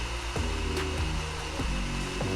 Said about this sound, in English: So once we get everything processed well in our processor